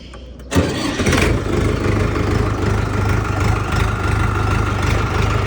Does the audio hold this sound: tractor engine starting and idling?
yes